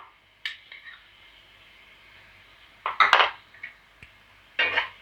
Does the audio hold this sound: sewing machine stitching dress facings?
no